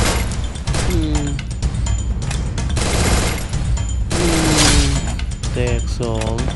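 Rapid bursts of gunfire in the mobile battle game Free Fire, loud dense volleys of shots with game effects throughout, while a voice talks over the action.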